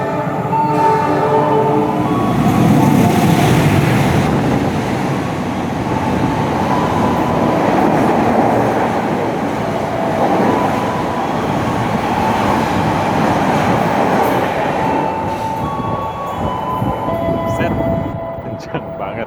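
An express train (Argo Muria) thunders past at speed on an Indonesian railway line near Jatibarang station, a loud sustained roar with rattling and a brief horn-like tone, fading slightly toward the end.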